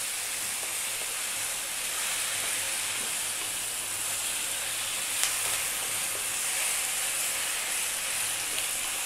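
Spices and chicken curry mixture sizzling steadily in hot oil over high heat, a continuous bright frying hiss at close range with no talking.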